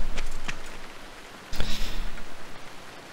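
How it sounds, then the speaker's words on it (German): Steady rain in Assassin's Creed Odyssey patters as a broadband hiss with a few sharper splashes, and a louder gust of rainfall swells midway before easing off. "Und es regnet."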